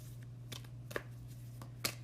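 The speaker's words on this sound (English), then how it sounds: "I feel like I should shuffle again" A few soft, scattered riffs and snaps of cards being shuffled over a low steady hum, with no talking.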